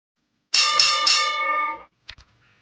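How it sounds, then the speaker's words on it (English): A bell on a sports talk radio show is struck about three times in quick succession, ringing loud and bright for over a second before fading, followed by a couple of faint clicks; no talking. "Ring the bell."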